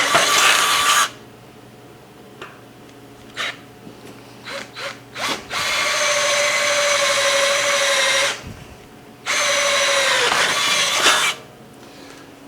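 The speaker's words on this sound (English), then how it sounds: "we're gonna drill those out with a proper size drill bit" An electric drill with a proper-size bit bores out holes on a 5x8 utility trailer, giving two long, loud whining runs with short bursts in between, and each run winds down to silence.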